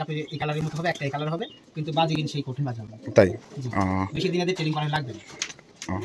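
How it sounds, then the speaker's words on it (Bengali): Giribaz pigeons cooing at a pigeon farm in Rajshahi, soft coos under someone talking steadily almost throughout. "এখানে অনেক ধরনের কবুতর আছে"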